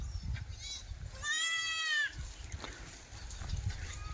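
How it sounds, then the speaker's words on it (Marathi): Pregnant goats on a farm, one loud drawn-out bleat up close in the middle, with low background rumble and faint other sounds before and after. "बघा मित्रांनो, गाबनी शेळ्या"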